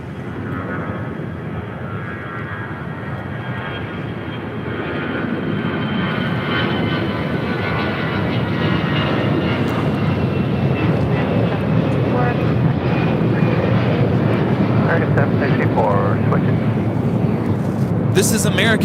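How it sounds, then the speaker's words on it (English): American Airlines Airbus A319 taking off from LAX runway 25 right, a steady broad engine roar that swells louder midway and holds, with a commentator speaking over it. "This is American Airlines 764 taking off to Puerto Vallarta on an A319."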